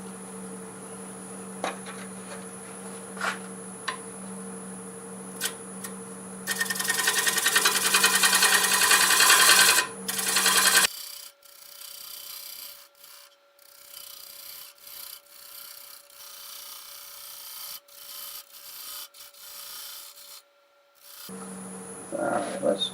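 A wood lathe turns a large black locust bowl while a tool cuts the tenon, giving a steady hum with a steady rasping scrape. A harsher, louder stretch of cutting comes midway, then a quieter hum with scattered light scraping.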